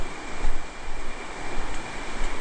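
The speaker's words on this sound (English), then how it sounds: "It's just a constant rush of the water going by" Creek water rushes beside the Appalachian Trail in a loud, constant broadband wash that swells and eases slightly, heard close and alone with no voices.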